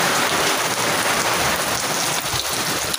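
Heavy pouring rain drums loudly and steadily on surfaces in a village during a storm with frequent thunder, a dense unbroken roar filling the whole moment.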